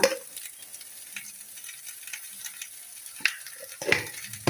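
Okra (ladies finger) frying in a little oil with salt, a soft continuous sizzle with occasional sharp scraping clicks of a spoon against the pan, close and without speech.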